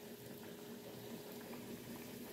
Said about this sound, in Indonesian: sekarang uli ketan gorengnya sedang saya goreng